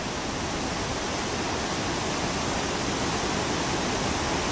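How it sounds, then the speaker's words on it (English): A waterfall near the Pine River Valley gives off a steady, even rush of falling water, like broadband hiss. It sounds constant and fairly close, with no other sounds or voices. "this is the Pt1 Falls"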